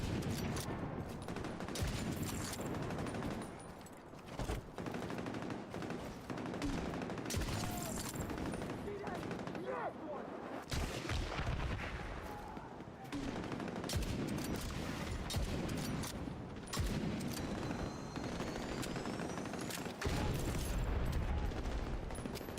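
Bursts of rapid automatic fire from a P90 submachine gun in a video game, repeated volleys broken by short pauses over about twenty seconds, loud and close, with faint casual talk in the background.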